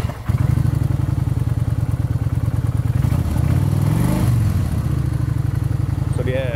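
A motorcycle engine idles and runs close by with a steady, fast-pulsing throb and a brief rise in revs midway. Voices can be heard faintly near the end.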